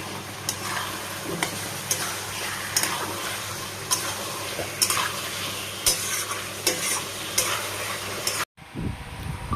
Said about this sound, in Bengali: চিকেনটা মশলা কষিয়ে দিয়ে দিলাম